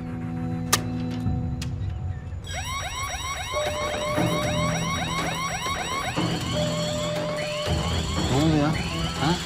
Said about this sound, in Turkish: Alarm sesini duydum koştum geldim